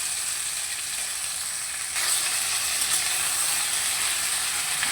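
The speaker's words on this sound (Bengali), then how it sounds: "একটুখানি নেড়ে চেড়ে নেব।" Chopped bottle gourd vines and vegetables frying in a pan give a dense, steady hiss that grows louder partway through as they are stirred, with no speech.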